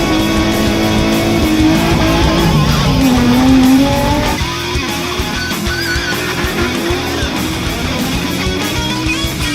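Drifting car engines roar loudly with a high tire squeal rising in the first few seconds, then continued engine noise and skidding texture.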